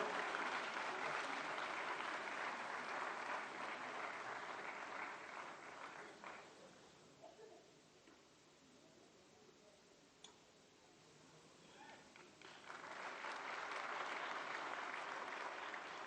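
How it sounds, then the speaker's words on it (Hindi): Loud audience applause at a formal Indian government book-release ceremony in a hall, strong at first, fading midway, then swelling again to full strength. "जोरदार तालियां, जोरदार स्वागत।"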